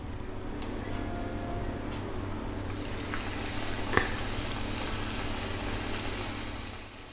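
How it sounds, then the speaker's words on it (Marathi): Onion bhaji batter with onion greens fries in hot oil, giving a steady, close, continuous sizzle with a faint bubbling hiss throughout and one brief sharper crackle. "आता तेल मस्त सणसण सणसणीत तापला. आता ही भजी ना हातीनच सोडूची असता."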